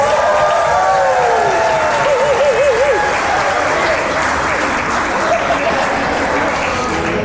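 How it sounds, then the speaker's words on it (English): Wedding guests burst into loud, sustained applause and cheering at the reception, a close, steady wash of clapping with a voice and a whistle rising briefly over it. "Let's give him a massive round of applause."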